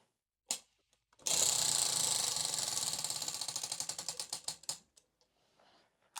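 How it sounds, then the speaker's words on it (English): Prize wheel for picking cross stitch projects spun by hand, a dense rapid clicking ratchet that gradually slows into spaced ticks before stopping, heard alone and close. "let's go ahead and spin the wheel so we can start stitching"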